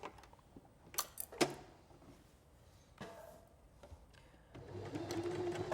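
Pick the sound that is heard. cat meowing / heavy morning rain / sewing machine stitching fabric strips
sewing machine stitching fabric strips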